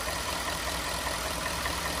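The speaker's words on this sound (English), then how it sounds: "we're going to do this little checking out of the engine to see how it sounds" An AAR tow rig's engine idles steadily just after a cold start, a dense, even, continuous rumble at close range with no breaks or rev changes and no voices.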